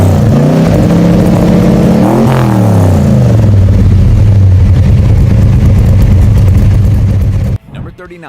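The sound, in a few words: Ford Falcon 351 V8 engine revving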